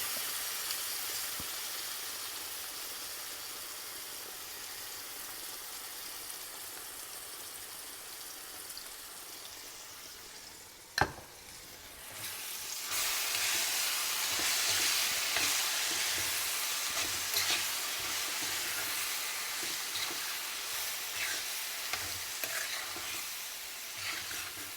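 Coriander chutney fries with asafoetida in a pan, a steady hissing sizzle with stirring; a sharp clatter midway, after which the sizzle grows louder and brighter, continuous with no talk.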